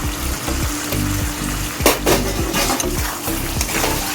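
Chicken cooked with spices and sour yogurt bubbles and simmers in a pan, giving a dense, steady watery hiss with a few soft knocks, loud and close throughout.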